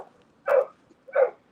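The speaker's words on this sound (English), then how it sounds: "my dogs are going ape shit" Two sharp barks from dogs indoors, a loud close bark followed by a second about half a second later, with quiet gaps around them and no talking.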